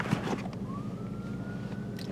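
A distant siren wails with a long, slowly rising tone over a muffled street rumble, heard from some way off.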